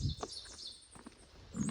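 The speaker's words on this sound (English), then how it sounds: "at least the birds are still chirping" Birds chirp along a misty stretch of the Appalachian Trail on a gray day, with a few short, soft calls scattered over faint wind noise and no one talking.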